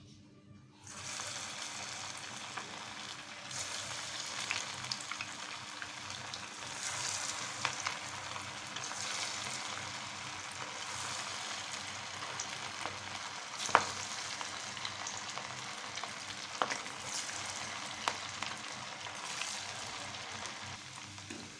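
Fish frying in hot coconut oil, a steady close sizzle and crackle that continues throughout, with occasional sharp pops and spatters, no talking.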